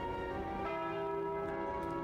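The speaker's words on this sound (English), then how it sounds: "The bell tolls." A heavy bell tolls in Slay the Spire as the Curse of the Bell appears: one sustained, ringing strike with long, shimmering overtones that hold steady and fade slowly, alone with no voices.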